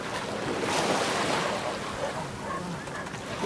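A large boat moving on the sea, with steady rushing wind and wave wash close by and faint voices beneath.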